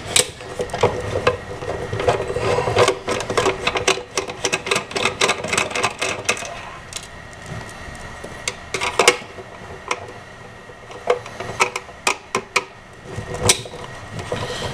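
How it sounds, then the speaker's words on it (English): Screwdriver working deep screws inside an arcade cabinet, close irregular ticking and ratcheting clicks with scraping metal-on-wood handling, sharper taps in bursts over the whole stretch. "You can tell when the screwdriver is fitting inside the screw."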